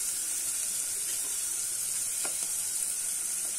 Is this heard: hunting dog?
no